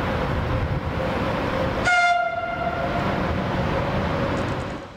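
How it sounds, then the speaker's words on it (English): A Trenitalia freight train sounds its horn once, a loud sustained tonal blast over steady rumbling rail noise as it rolls past nearby through a station in Cremona, Italy. "Here we have a Trenitalia freight heading through the number one track."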